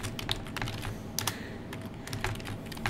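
Rapid typing on a computer keyboard during a creative writing session, a steady clatter of close keystrokes with short pauses, no voices.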